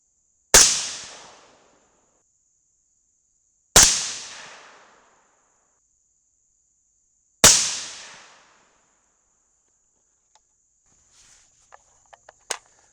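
Three sharp .223 rifle shots fired in a primer test at an outdoor range, evenly spaced a few seconds apart, each a loud crack with a decaying tail, followed by faint scattered clicks.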